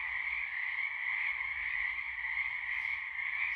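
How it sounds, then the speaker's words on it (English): Frogs croak loudly and continuously outside a porch at night in early spring, a dense, unbroken chorus of trilling calls that holds steady throughout with no voices. "Can you hear the frogs?"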